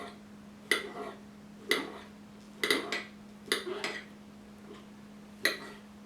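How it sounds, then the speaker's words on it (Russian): Five or six sharp, separate knife strikes on a cutting board chop champignon mushrooms finely, spaced irregularly over a faint steady electrical hum. "Нарезаем шампиньоны мелкой фракцией."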